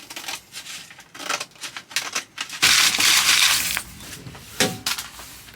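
Thermal van liner templates for a VW Caddy being cut out, giving a run of short crunchy cutting and rustling bursts with a louder, sustained crinkling stretch midway, close and fairly loud.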